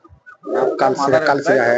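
Pigeons in a breeding loft for high-flying birds, males and females kept separately, give close, throaty rolling coos in a short burst after a few soft clucks.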